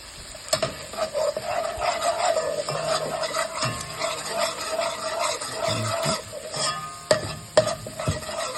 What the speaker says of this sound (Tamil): கஸ்தூரி மேத்தி போட்டு நல்லா ஃப்ளேமபுளாக அதில் நல்லா ப்ரௌன் ஆகிற வரைக்கும் நல்லா சாட்டே பண்ணுங்க